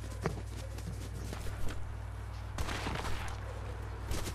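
Gunfire in the video game Fortnite, scattered sharp shots and short bursts popping irregularly over a steady low hum, moderately distant and fairly faint.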